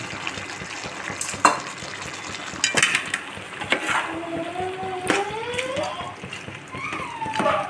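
A chicken kurma mixture with yogurt is stirred and mixed in a pot, giving wet, irregular scraping and squelching with occasional louder utensil knocks, close by, with faint background tones.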